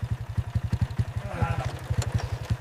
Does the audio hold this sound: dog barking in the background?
no